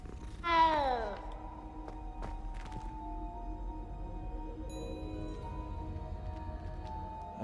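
A cat in Hogwarts Legacy gives one clear, close meow near the start, then a low steady ambient hum carries on alone.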